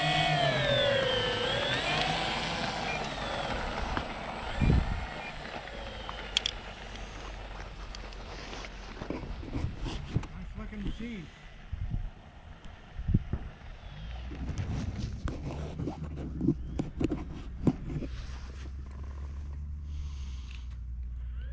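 Radio-controlled Flightline B25 scale model plane on its maiden flight, its twin engines whining and roaring steadily through a long takeoff run, with the pitch swelling and shifting as the plane passes.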